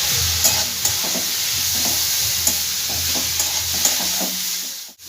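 Onion lightly frying with grated peanuts in a pan for a Kolkata-style egg roll, producing a constant loud hiss of frying with faint periodic stirring scrapes and a brief knock at the end.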